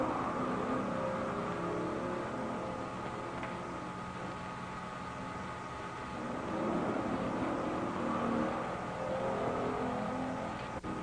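Motorcycles racing on the Catalina Grand National dirt course in 1952, a continuous distant engine drone with slight swells, heard faintly without talk.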